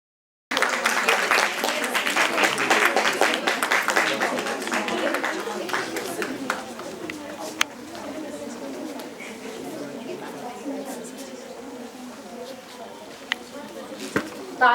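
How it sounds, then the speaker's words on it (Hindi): Audience applause at a National Startup Day event, a dense burst of clapping starting sharply then thinning and fading over several seconds, with faint voices underneath. "तालियां बजती रहे।"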